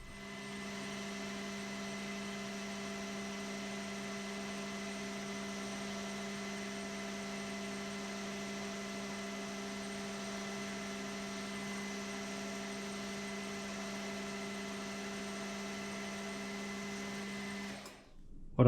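A metal lathe turning down the diameter of a Sheridan lathe leadscrew to fit a 7/16 handle, giving a steady, loud motor whine with strong tonal hum that runs without a break, then cuts off abruptly near the end.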